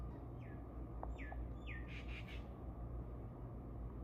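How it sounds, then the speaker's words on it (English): A few descending bird calls ring out over a steady low rumble of background noise, spaced about half a second apart and fairly faint. "You hear the bird? It's right there."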